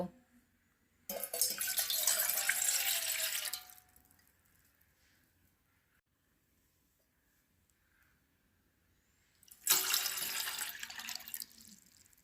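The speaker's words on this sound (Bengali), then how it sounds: "এবার এতে বড় কাপের 2 কাপ জল দিয়ে দেব" Water poured from a cup into a steel pot sitting on a gas stove, two separate bursts of splashing pour with a quiet pause between them, close and fairly loud.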